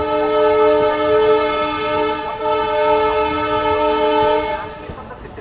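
Palnadu SF Express passenger train arriving at Begumpet station, its loud horn sounding a long sustained tone over the rumble and rattle of rolling wagons, close and dominant throughout.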